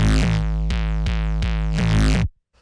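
Heavy 808 kick drum pushed through a saturator in an electro production, five rapid loud hits with a thick buzzing, harmonic-rich sustain that cuts off abruptly.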